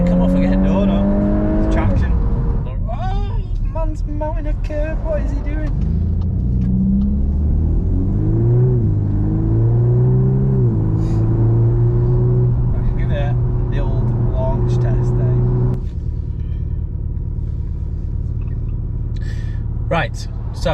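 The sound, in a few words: VW Golf R Mk8 accelerating hard, tyres losing traction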